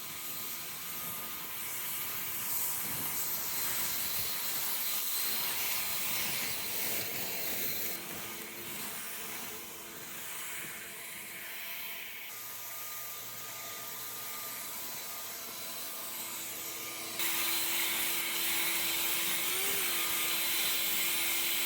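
Ego LB6504 56V cordless leaf blower clearing leaves along a one-mile wooded walking trail loop, a steady close rushing whine of motor and airflow running the whole time, with its pitch and loudness stepping up and down as the speed changes.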